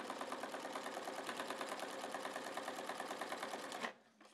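A sewing machine runs a fast, even stitch across fabric along a marked line for nearly four seconds, then stops abruptly and a soft handling noise follows.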